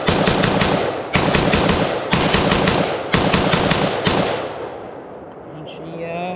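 A T65K2 rifle fires a full magazine outdoors, sustained rapid loud reports in several continuous strings with brief gaps between them, ending as the bolt locks open and echoes trail off.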